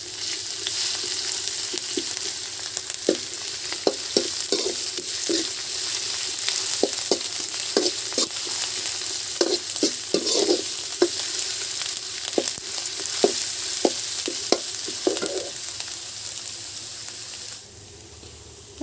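Garlic and ginger fry in a pan with a steady hiss, while a spoon scrapes and taps in a regular rhythm. The sizzle continues, then fades to a quieter hiss at the close.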